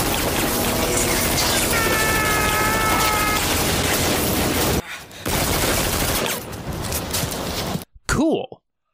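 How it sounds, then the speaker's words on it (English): Rapid bursts of gunfire during a firefight in the 1995 video game Decoy, loud and dense for several seconds, then a brief gap and further shots before the sound cuts off, with a synthetic tone and voices mixed in. "We get in another gunfight."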